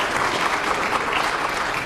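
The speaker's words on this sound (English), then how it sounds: "Round of applause for our players, please." Steady applause from an audience, a dense continuous clapping that stays at an even loudness throughout, with no talking.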